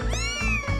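A cat meows in the Little Busters visual novel game, two quick loud close meows in succession with no voices over them.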